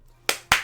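Two crisp hand claps from the visual novel Arcade Spirits, sharp and close, the second following about a fifth of a second after the first, with no other sound around them.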